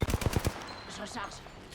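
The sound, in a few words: gunfire in video game Apex Legends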